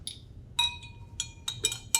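Glass test tubes clink sharply against each other and the rack as they are set back into a laboratory water bath during a hydrolysis test; several bright, ringing taps come in quick irregular succession, close and clear, with no talking.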